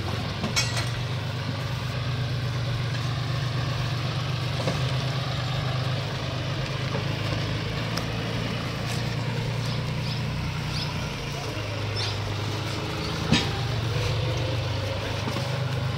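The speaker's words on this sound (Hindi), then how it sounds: "अब इंजन को घर के पास ले जा रहे हैं" A John Deere 5036 Super Turbo tractor engine running steadily as it is driven home through a village, a constant low diesel drone close by with one brief clunk near the end.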